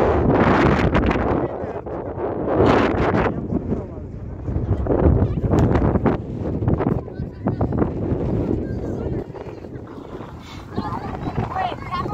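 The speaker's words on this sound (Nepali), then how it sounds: "कति हावा ल" Strong wind buffets the microphone in a steady, loud roar during a family New Year trip through Nepal's hills, with people talking over it throughout.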